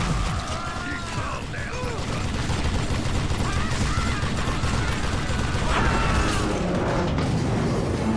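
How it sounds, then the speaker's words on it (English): Gunfire and heavy booms in Call of Juarez: Gunslinger, a western shooter, with a dense, continuous mix of blasts and clattering mechanical sounds, loud throughout with no single isolated shotgun report standing out. "Shotgun."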